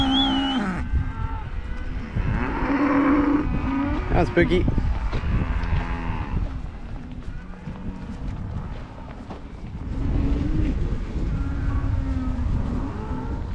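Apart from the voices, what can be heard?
cattle (heifers) mooing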